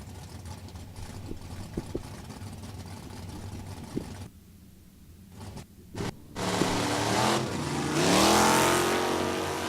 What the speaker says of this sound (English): Balcom up in his Cutlass. Mason rolling through in his Camaro.